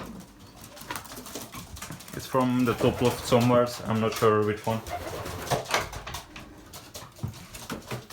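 Belgian racing pigeons coo in a loft, giving a few rhythmic, throaty calls close by in the middle, with someone talking over the birds and faint rustling around them.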